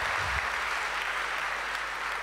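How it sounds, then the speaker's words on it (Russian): A church congregation applauding during a Sunday service, sustained clapping that stays steady and moderately loud throughout. "Let's give Him another clap offering."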